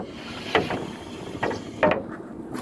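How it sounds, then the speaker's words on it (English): Wooden hatch on a boat being dragged shut, three creaking, knocking thuds in uneven succession at close range, with no talk. "Let's just pull this hatch over."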